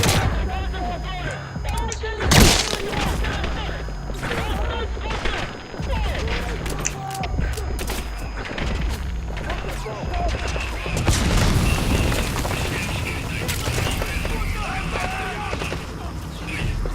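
Gunfire in Metal Gear Solid 5: The Phantom Pain, with scattered shots and bursts cracking through a busy game scene while voices talk throughout.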